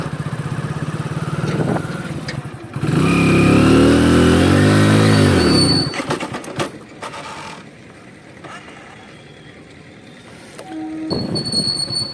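A motorcycle engine with a gear-shifting and clutch fault revs after a downshift of two gears, a loud surging roar for about three seconds that then drops back to a steady idle hum.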